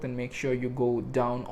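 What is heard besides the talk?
No distinct noise like a dog, phone or traffic.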